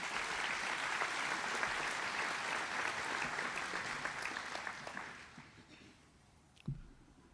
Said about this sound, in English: let's give all of them and all of you a round of applause